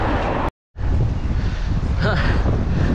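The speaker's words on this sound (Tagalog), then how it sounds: "Lakas ng hangin" Strong wind buffets the microphone in a steady, loud roar, broken by a brief dropout of silence near the start.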